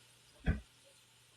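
A single short, muffled sneeze-like burst, followed a second later by the start of another sharp, louder burst.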